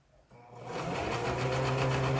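A sewing machine stitches a T-shirt dress, starting quietly and quickly building to a steady, fast, close mechanical whir that runs uninterrupted.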